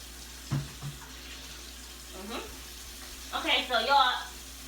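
Tap water running into a sink during handwashing, a hissing splash that rises in bursts near the end after a few brief voice sounds at the start.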